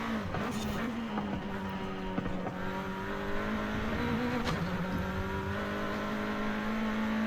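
A roughly 300-horsepower sports car on slick tyres in Forza Horizon 5 drones and revs steadily throughout, a continuous mid-level engine tone with slight pitch shifts and no talking.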